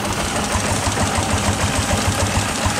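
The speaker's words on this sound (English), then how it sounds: "Gonna boost the generator up a little." An antique generator engine powering a 1900 carbon arc lamp runs steadily with a rhythmic low chugging pulse and broad mechanical hiss, loud and close, as it is revved up.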